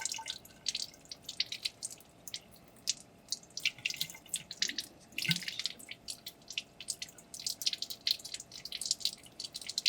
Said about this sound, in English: we're going to rinse the slide with cold water